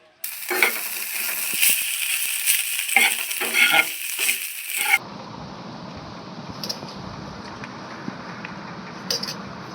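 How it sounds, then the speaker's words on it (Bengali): Soybean chunks frying in hot oil with a loud, dense sizzle and stirring clatter for about five seconds, then dropping to a softer steady crackle with occasional light knocks. "সয়াবিনটাকে আমি ভেজে নেব"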